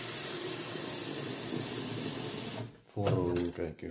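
Water running steadily from a tap into a pot for boiling eggs, a loud continuous rush that cuts off near the end, followed by someone speaking.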